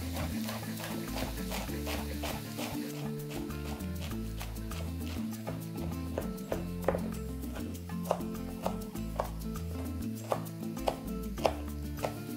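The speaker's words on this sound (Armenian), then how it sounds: "սրանք ենք մանր կտրատում" A knife chops beet leaves finely on a board in quick, steady, regular taps, heard under background music.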